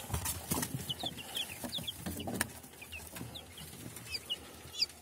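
Week-old Tsarskoye Selo breed chicks peeping, with many short high chirps scattered over a low background of handling noise and faint knocks.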